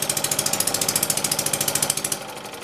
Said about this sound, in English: So I'm going to shut the engine off now.